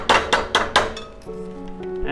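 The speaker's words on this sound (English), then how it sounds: "I rotate it a little bit when I hit it" A Delrin hammer strikes annealed metal wire stock four times in a steady rhythm, each blow a sharp, close clink with a ringing metallic tail, the stock turned slightly between hits while straightening it for wire and jump ring making.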